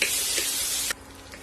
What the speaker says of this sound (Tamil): ஓரளவுக்கு சாஃப்ட் ஆகணும், அது வரைக்கும் நம்ம இதை வதக்கிக்கலாம்.